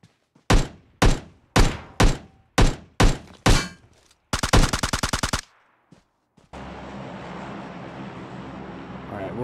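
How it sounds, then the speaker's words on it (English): Gunfire in PUBG Mobile: six evenly spaced heavy single shots, then a rapid automatic burst, a couple of isolated cracks, and a sustained loud rumbling texture after. "Where am I getting shot at from?"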